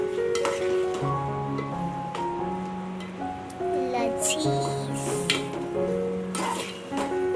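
A spoon stirs prawn curry with kokum in a pan, its scrapes and clinks sounding over a soft bubbling sizzle, close by, with a few faint background tones and no clear talking.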